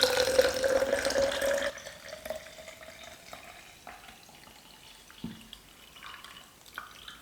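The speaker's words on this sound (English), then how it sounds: "I'll be adding 2 cups or 500 millilitres of water to" Water poured onto oats for homemade oat milk, a steady close pour for under two seconds, then quieter drips, clinks and faint splashes.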